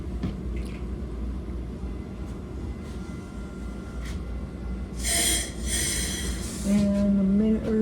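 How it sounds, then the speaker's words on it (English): A Caltrain commuter train pulls out of Millbrae Station, its low rolling rumble steady beneath two bright bursts of hissing noise midway and a rising tonal whine at the end as it accelerates. "Here we are pulling out of Millbrae Station"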